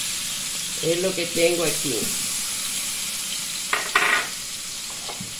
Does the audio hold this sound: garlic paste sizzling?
yes